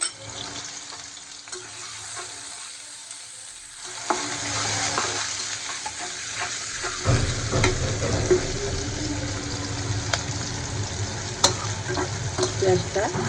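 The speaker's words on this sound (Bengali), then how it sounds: "পেঁয়াজটা ভেজে নেবো" Chopped onion sizzles and fries in a pan with a steady crackling hiss, growing louder and fuller after a few seconds, with occasional stirring scrapes and no talk.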